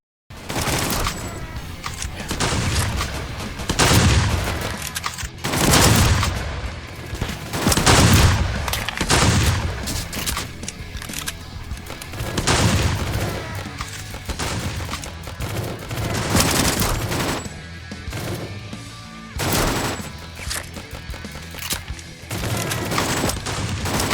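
Rapid sidearm gunfire in the Roblox zombie shooter The Undead Coming: Armageddon, repeated bursts of sharp shots in clusters separated by brief gaps, loud and close throughout.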